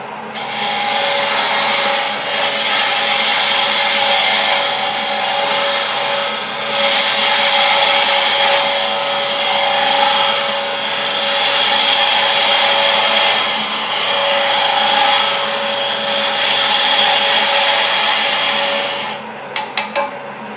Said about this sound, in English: Turn on the lathe and form that taper.